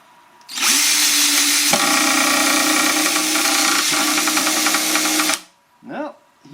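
A drill with a clutch set to about 10 drives a screw into a wooden beehive box. It whirs loudly and steadily for about five seconds, then stops abruptly, followed by a brief short squeal.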